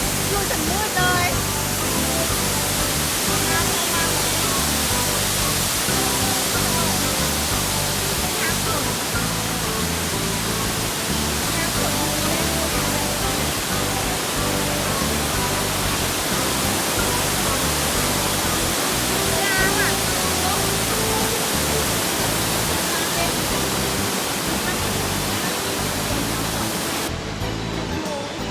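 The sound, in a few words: roadside waterfall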